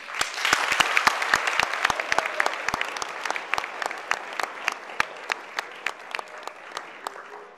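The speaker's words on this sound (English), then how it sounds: "I would like to give them a round of applause for simply involving themselves in this race" An audience at a Tennessee YMCA Youth Legislature governor's dinner in 2010 applauds the governor candidates, sharp individual claps standing out over a continuous crowd clapping that slowly tapers off.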